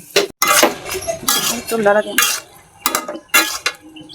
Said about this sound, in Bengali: কষাই নিচ্ছি এখন এটার মধ্যে কচুগুলো ভালোভাবে কষে দেবে